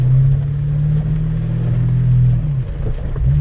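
A manual car's engine as a learner driver releases the clutch in pouring rain, a loud steady low droning hum with a slight dip and wavering pitch near the end, heard close with no talking.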